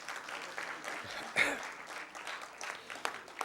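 An audience at the International Punjabi Conference in Lahore claps in a brief, fairly faint burst of applause that rises and falls over a few seconds, with low murmuring in the room.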